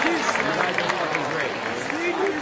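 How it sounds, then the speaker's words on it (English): An audience at an awards ceremony applauding the management team, a dense patter of clapping throughout, with a voice speaking over it. "a big round of applause for this team right here"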